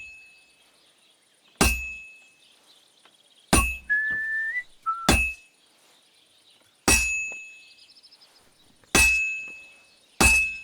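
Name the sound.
hammering a sword on an anvil, Kingdom Come Deliverance II video game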